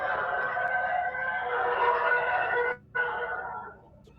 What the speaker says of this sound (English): The reason I picked the TIE Fighter, and I think it's the best sound to a spaceship I think I've ever heard.